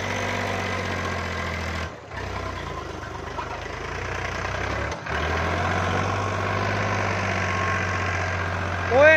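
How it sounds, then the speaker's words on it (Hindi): A Powertrac tractor engine runs steadily while working through water, with a low, even rumble that dips briefly twice before returning at the same level. "इसकी ट्राई ले रहे हैं पावर ट्रैक ट्रैक्टर की"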